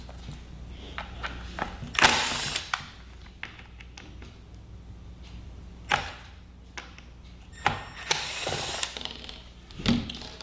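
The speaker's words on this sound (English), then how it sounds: "We're going to remove these 4 pan head screws." A Phillips screwdriver removing four pan head screws from a floor tool squeegee, with close ratcheting clicks, taps and several sharper knocks of handled parts at irregular intervals, no talk.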